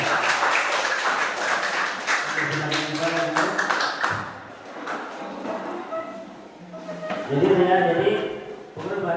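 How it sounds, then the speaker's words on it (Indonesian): Students in a classroom lesson clap together, a loud burst of fairly rhythmic hand clapping, with voices talking and calling out over and between the claps as the applause trails off. "Ya, tepuk tangan kita semua."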